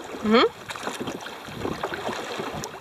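Soft splashes and dips of oars in water as a boat is rowed toward a beach, a few irregular strokes against light wind, with a brief voice near the start.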